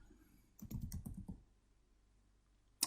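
A short burst of computer keyboard typing, about a dozen quick close keystrokes within a second, then quiet, ending with a single sharp click.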